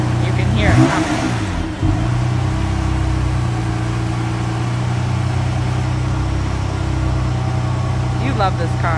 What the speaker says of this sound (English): You guys hear that exhaust right away.